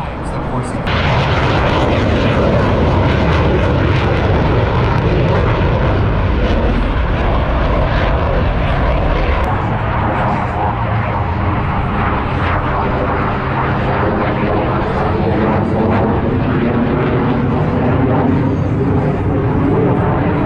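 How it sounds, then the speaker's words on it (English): Blue Angels jet flight demonstration at an air show in Fort Worth, Texas, a loud continuous roaring jet engine rush that sweeps and shifts in pitch as the aircraft pass, with a commentator talking over the PA. "Blue Angel number 6 pitches up vertically at 6 times the force of gravity."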